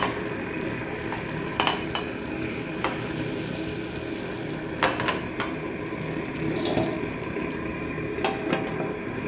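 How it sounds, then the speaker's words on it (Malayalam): Cumin seeds roast in a hot pan with a soft continuous crackle, broken by several sharp clicks and taps of a utensil against the metal, close by and with no talk. "ജീരക വറുക്കുക"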